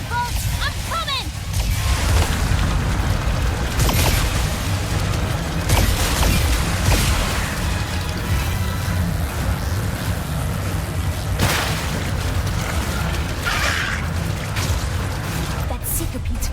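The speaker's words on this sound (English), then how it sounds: "Deploying amphibious explosives to neutralize hostile furball" Amphibious explosives detonating in the video game Ratchet & Clank: Rift Apart: several sharp blasts burst out over a loud, continuous rumbling wash of water and machinery.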